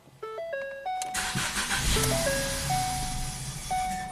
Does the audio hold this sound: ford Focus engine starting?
yes